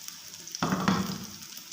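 Chapli kababs made from qurbani meat fry in oil on a low-medium flame. After a quiet start, a sudden sizzle bursts in close by and then fades into a softer, steady crackle.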